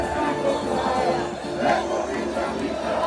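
A football stadium crowd of 18,000 at a Levski match in Bulgaria, singing and cheering in a steady, loud, dense wash of voices that swells briefly near the middle.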